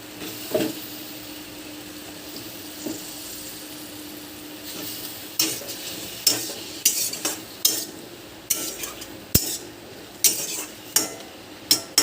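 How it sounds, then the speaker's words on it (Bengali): Pieces of eggplant sizzle faintly in a pan of freshly fried spices while a utensil stirs and scrapes, knocking against the metal in a series of sharp clicks. "এবার দিয়ে দেবো বেগুনগুলিকে একটু ভেজে"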